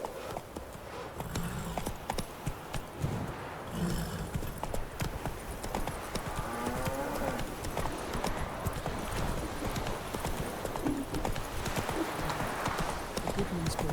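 The horse Roach gallops in The Witcher 3, giving steady rhythmic hoofbeats throughout alongside game ambience, with a voice speaking over it.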